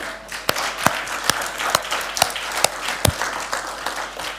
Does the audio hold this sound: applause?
yes